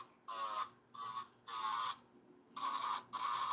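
Electric nail drill at 6,000 RPM working on a diamond nail set, whining in several short bursts of about half a second to a second, separated by brief quiet gaps.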